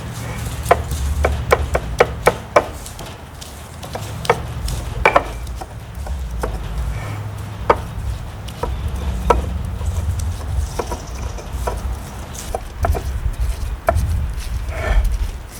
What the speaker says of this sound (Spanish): solamente el ajo, machacándolo bien a bien hasta que nos quede una pastita